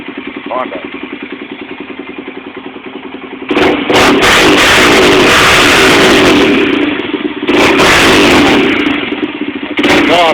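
A 2003 Honda 300EX ATV fitted with a Vance and Hines exhaust idles with a steady low putter, then breaks into loud, raspy revs in two sustained bursts, with a quick blip at the end.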